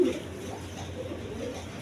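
Red Gola pigeons coo softly nearby, low murmuring coos over a quiet background.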